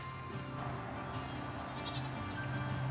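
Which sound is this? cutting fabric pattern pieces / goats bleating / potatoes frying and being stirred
goats bleating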